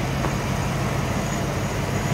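A 1990 Ford Mustang GT convertible, a well-kept unmodified example, idles smoothly in its open engine bay, giving a steady close rumble with no talk over it.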